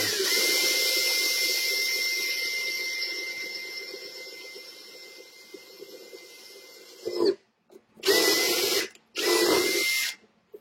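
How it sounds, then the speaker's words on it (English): A power drill bores bolt holes in a long continuous run that slowly fades, followed by three short, loud bursts of drilling. "Drill all the way."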